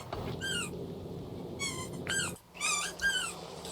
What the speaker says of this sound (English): My dog's in here squeaking